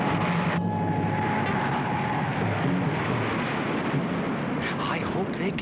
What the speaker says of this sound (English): Emergency rations are being airlifted by remote-controlled cargo planes.